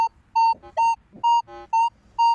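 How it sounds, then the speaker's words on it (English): Minelab Manticore metal detector sounding over a large Dutch silver coin: five clean, steady beeping tones in a regular on-off rhythm, loud and close, with brief quieter lower tones between them and no talking. "You wouldn't need to pump because it's an obvious signal."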